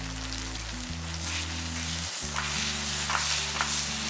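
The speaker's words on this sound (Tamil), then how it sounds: "இந்த நெய்லேயே லேசாக அதை நல்லா வறுத்துக்கலாம்" Rice flour being roasted in ghee for Ashoka halwa gives a soft, even sizzle with occasional faint stirring, over a steady low mechanical hum; no talking.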